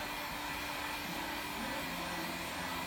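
A heat gun blows hot air over window film on a frameless car door, giving a constant, even whooshing hiss without breaks, moderately quiet and close.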